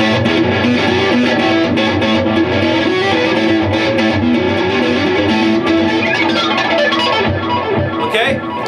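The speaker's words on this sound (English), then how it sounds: "You got to have distortion. Delay helps." Electric guitar played with distortion and delay, with sustained tapped and pinched harmonics ringing out loud and close, dense and layered, ending with bending pitch sweeps.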